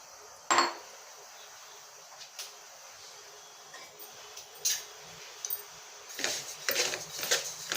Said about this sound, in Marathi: आता आपण त्याच्यावर तीळ भाजून घेणार आहोत।